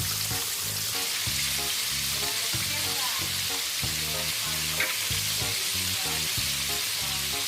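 Meat fries in hot oil with a steady, dense sizzle and crackle that is close and loud throughout, broken by faint stirring or handling clatter.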